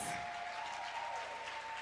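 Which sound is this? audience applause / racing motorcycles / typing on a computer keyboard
audience applause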